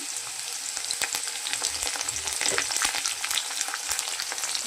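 Chopped tomato sizzling as it fries in a kadai with diced potatoes for a home-style curry of soaked matar dal, steady crackle with scattered stirring clicks, close and fairly loud, no talking.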